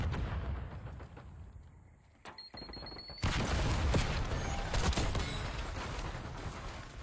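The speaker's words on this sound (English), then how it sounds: "What the heck is my teammate shooting at?" Bursts of video-game gunfire from a teammate ring out, with a quieter stretch broken by a brief electronic tone before a loud, sustained barrage of overlapping shots and blasts takes over.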